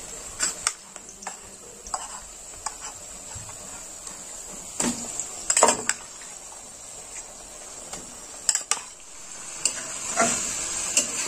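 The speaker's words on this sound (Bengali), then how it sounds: "এবার আমি মাংসটা দিয়ে দেবো।" Marinated spiced meat cooks among fried onions in a pan, giving a soft continuous sizzle with scattered clicks and scrapes of a spoon stirring, fairly quiet and close, with no voices.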